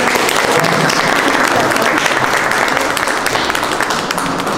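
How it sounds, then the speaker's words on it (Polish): Warm applause from an audience at a 2017 road-opening ceremony in Laski, honoring the marshal; dense, steady clapping fills the whole stretch at close, loud level. "gorące brawa dla pani marszałkini za tę inicjatywę"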